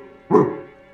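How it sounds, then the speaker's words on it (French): A single short dog bark rings out close and fairly loud, a sharp yip-like burst that fades quickly against a quiet low hum. "vas-y, aboie un bon coup."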